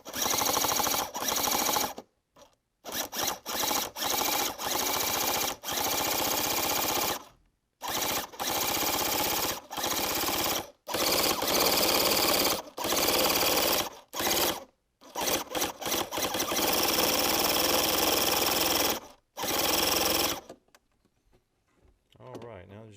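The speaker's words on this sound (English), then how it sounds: "let's see if the engine turns" A small nitro RC engine, freed after a seized start with penetrating oil and a newly installed glow plug, buzzes loudly in short repeated bursts with brief gaps, then cuts out near the end.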